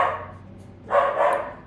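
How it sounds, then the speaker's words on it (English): Pet dogs bark indoors, two short muffled bursts, the second and louder one coming after a brief pause. "My dogs are a little loud."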